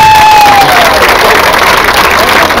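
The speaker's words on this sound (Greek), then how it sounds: "Ένα χειροκρότημα για τους αληθιές μας." A crowd at a jiu-jitsu fighting exhibition applauding and cheering for the athletes, loud mixed clapping and shouting that stays steady throughout, with a short whistle-like tone near the start.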